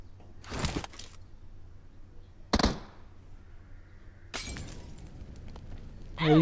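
A Molotov cocktail shattering in PUBG Mobile: sharp glass-breaking bursts at close range, three separate crashes spaced over a few seconds, with a quieter crackle between them and a final sharp burst.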